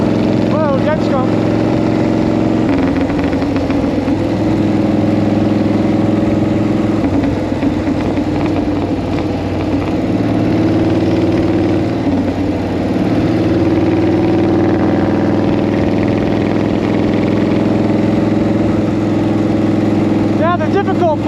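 A 1940 flathead motorcycle engine runs steadily while being ridden on the road, a loud, continuous mid-pitched drone with wind noise and shifting tones as the gears change, audible throughout.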